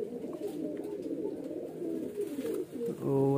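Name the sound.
highflyer pigeon cooing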